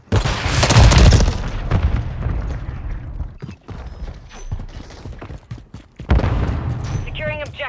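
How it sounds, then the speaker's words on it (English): A flash grenade goes off in Call of Duty MW3 multiplayer as a loud burst within the first second, followed by continuous gunfire and game noise, with a second loud burst near the end. "Throwing flash grenade!"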